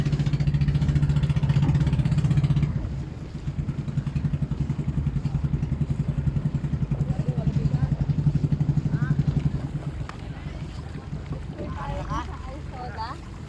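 A steady boat engine drones throughout near a sandbar in Bohol, Philippines, with voices chatting nearby over the motor and water noise.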